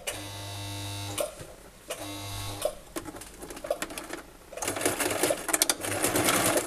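Sewing machine stitching two layers of fabric for a washable wipes basket, running in short bursts separated by pauses, then a longer steady run near the end, close and moderately loud.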